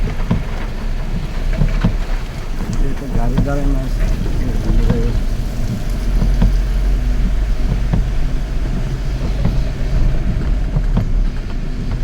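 Strong Kalbaishakhi storm wind roars steadily with heavy rain and deep gusty rumbling throughout, while a person speaks over the din.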